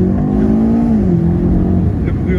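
A 2020 BMW M8 Competition Gran Coupé engine accelerating hard, a loud continuous roar heard from inside the car that rises and then dips in pitch as it shifts, with no talk.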